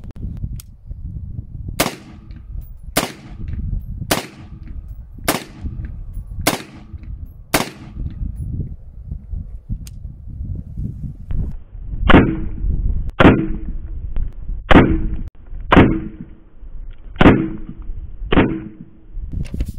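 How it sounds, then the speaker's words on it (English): Twelve 5.56 NATO rifle shots strike a Level 4 ceramic bulletproof plate, each one a sharp, loud crack with a metallic smack. The first six come at evenly spaced intervals, then a second run of six follows at the same pace, with no talking. "Let's see if I put six shots on that bulletproof on the side where it wasn't compromised yet if it's uh, gonna stop the bullets or not. I'm gonna go with 556 NATO."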